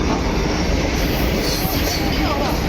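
A loud, continuous rumble and clatter of a train passing close by, steady throughout with no letup.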